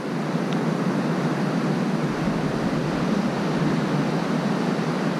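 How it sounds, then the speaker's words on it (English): Steady ocean surf washing in continuously, a broad even roar of breaking waves with no pauses, heard alone with no voices. "listen to the sound of the waves"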